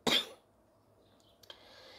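A woman gives a single sharp cough, close and fairly quiet, followed by soft breathing and faint rustling.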